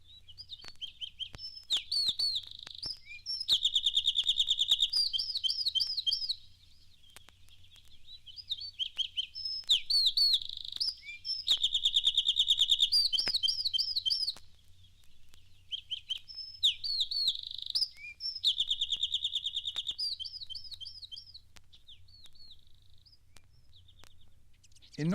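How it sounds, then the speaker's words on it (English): A wren sings repeated bursts of rapid, high trilling song, three bright phrases separated by short quieter pauses, clear and fairly close with faint chirps between. "Here is the wren song."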